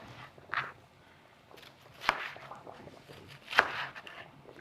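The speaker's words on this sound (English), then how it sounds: "So I'm just going to coarsely chop my okra." Okra being coarsely chopped on a board, three separate knife chops spaced about a second and a half apart, close and fairly soft, with quiet room ambience between them and no speech.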